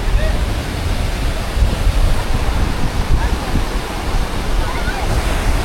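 Sea waves rolling onto Tajpur beach, a constant loud wash of surf mixed with heavy wind buffeting the microphone.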